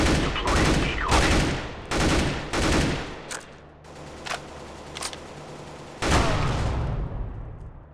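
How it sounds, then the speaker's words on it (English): Bursts of gunfire from a decoy grenade in the video game CS:GO, several loud rapid volleys crackling in quick succession, then a few scattered single shots and a final burst. "Deploying decoy."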